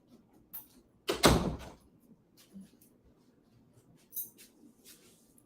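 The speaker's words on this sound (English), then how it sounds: "Let me make sure I got this door closed." An indoor door is pushed shut, one fairly loud thump and rattle near the start, followed by a few faint taps and small creaks in a quiet room.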